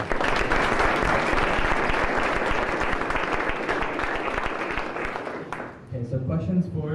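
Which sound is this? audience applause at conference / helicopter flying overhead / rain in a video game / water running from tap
audience applause at conference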